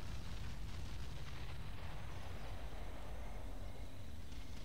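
Artillery bombardment in Ground Control rolls on as a continuous low rumble of distant explosions, heavy and muffled, with no distinct separate blasts and no voices.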